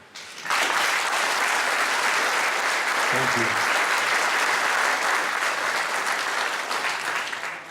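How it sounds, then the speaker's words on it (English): An audience at an on-stage interview event in Holmfirth, West Yorkshire bursts into dense, loud applause that holds steady for several seconds before tapering, with a brief spoken thanks partway through. "A round of applause from the audience again."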